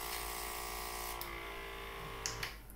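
A clogged airbrush gun runs with a steady close buzzing hiss throughout, ending in a couple of brief sharp sputters as the blocked nozzle spits.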